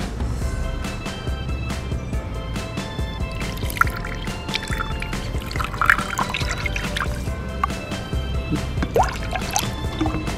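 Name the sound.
water being poured into Gelli Baff slime mix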